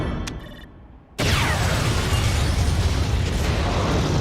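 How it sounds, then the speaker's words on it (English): A sudden, loud explosion from the video game Metal Gear Rising: Revengeance bursts in after a quieter stretch and rumbles on as a sustained roar. "Good explosion, bro."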